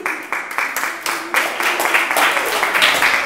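Scattered clapping from a small group, beginning as a few distinct separate claps and thickening into fuller applause near the microphone, with some voices mixed in.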